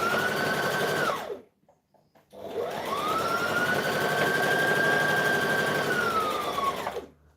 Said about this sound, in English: I'm top stitching the whole way around, by the way.